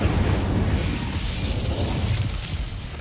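Spell blasts in Hogwarts Legacy, Confringo and Incendio, as a continuous loud roar of explosive bursts and crackling booms with no pause for three seconds.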